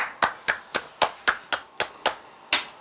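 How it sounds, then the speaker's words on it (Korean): One person claps alone, about ten sharp, evenly spaced claps at close range, with a short gap before the last one and no talking. "이거 진짜 박수 치고 가야 됩니다"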